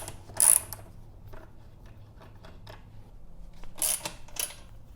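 Wrench loosening the rear axle pinch bolts on a Kawasaki Ninja 1000: a few sharp metallic clicks and ratchet ticks, close but fairly quiet, with brief bursts near the start and end and soft handling noise between.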